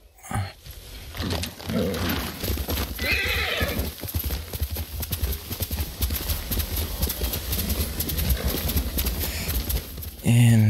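Horse in the video game Ghost of Tsushima, close hooves clip-clopping at a steady gallop rhythm for several seconds, with a loud neigh near the start and another whinny at the end.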